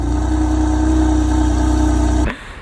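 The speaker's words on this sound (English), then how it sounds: "It's non-resonated. Cold start now." Loud, steady idle of a 2015 BMW M4 on a cold start, breathing through a non-resonated Remus catback exhaust, a deep rumbling drone that holds evenly for a couple of seconds and then cuts off abruptly.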